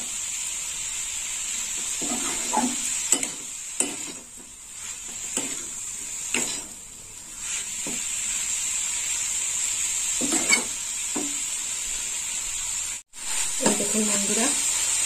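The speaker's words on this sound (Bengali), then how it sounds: "এরকম বারে বারে নাড়তে হবে।" Coconut mixture for coconut sweets being stirred in a pan, with soft intermittent scraping strokes of a spoon over a steady hiss, close by and moderately quiet, with no speech.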